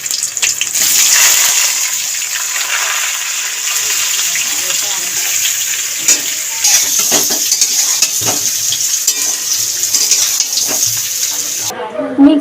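Boiled potatoes tossed into hot spiced oil in a pan, giving a loud, close, continuous sizzle with stirring scrapes and clatter throughout, fading out abruptly at the end.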